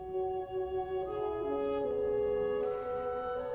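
Orchestral opening of Samuel Barber's Knoxville: Summer of 1915, sustained tonal instrumental lines with a slowly shifting melody, soft and steady with no voices.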